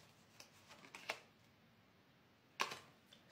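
Playing cards being shuffled, a few soft riffles and snaps with a sharper burst near the end, quiet and close against a hushed background.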